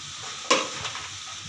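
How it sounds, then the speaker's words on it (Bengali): Spices frying in a pan for homemade mango pickle are stirred over low heat, a sharp scrape at the start followed by a soft, steady sizzle close by. "আমি একটু নাড়া দিতেছি, যাতে লেগে না যায়, মশলাটা পুড়ে না যায়"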